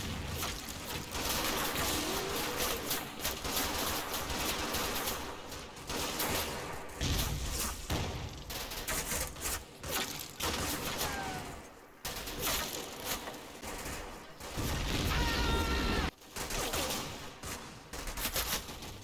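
Sustained rifle and machine gun fire in a close-quarters infantry battle against Fallschirjäger at Colle Sant Angelo near Monte Cassino in Combat Mission, with loud overlapping bursts and volleys continuing with short lulls throughout.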